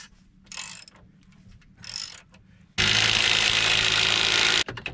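A discount impact driver rattles at rusted bolts on a Ford F350 during a winch install, with two short bursts followed by one long, loud, sustained hammering run that cuts off abruptly.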